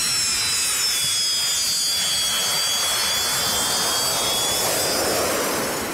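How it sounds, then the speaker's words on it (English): A 30-ton Antonov An-74 jet lands on a North Pole ice runway, giving a loud, steady broadband roar with a high turbine whine that holds for the whole stretch and eases slightly at the end. "Today we received our incredible Antonov 74 plane"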